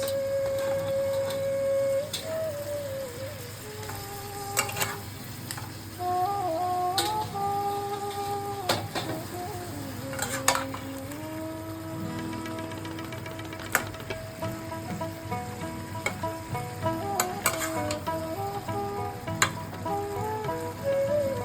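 Fried bhetki fish bones sizzling in a pan with a little spiced water, a constant low hiss under faint clicks and tonal kitchen noise, with no talking.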